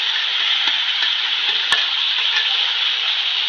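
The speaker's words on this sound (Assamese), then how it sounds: "এতিয়া গোটেইখিনি একেলগে লাহে লাহে এনেদৰে লৰাই ফ্ৰাই কৰিব লাগিব।" Duck meat stir-fried with pumpkin and potato, giving a steady, loud close-up sizzle throughout, with faint scraping of stirring and one sharp clack partway through.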